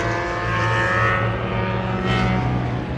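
A Mazda Miata race car roars past on the Road Atlanta circuit, a loud, steady engine drone that swells and peaks near the end as it goes by close.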